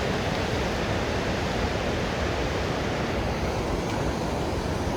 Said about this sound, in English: So this is the river that you have to cross.